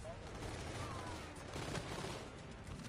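Rapid gunfire in the multiplayer shooter Infinite Warfare, a player firing at a trash can, sounding as a dense continuous fusillade of shots over busy game noise.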